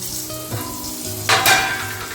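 Brinjal slices frying in a pan, a close, loud sizzle with a couple of sharper hissing bursts as pieces are stirred or added, no talking.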